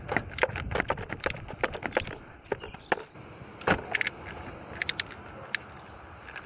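A socket wrench on a wobble extension ratchets while loosening the oil filter on a Mini Cooper S, giving a quick series of sharp metallic clicks, close and fairly crisp, with scattered taps and a quieter stretch midway and no talk.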